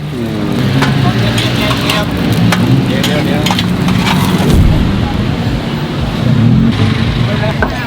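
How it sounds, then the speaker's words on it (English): Chive-stuffed sticky rice flour dumplings frying in oil at a Bangkok street food stall, a loud, constant sizzle with crackles and scrapes while someone talks over it and traffic murmurs in the background. "gonna get Chinese chops, but two different ways. One where they've already mixed it with the sticky rice flour and then gonna fry it up"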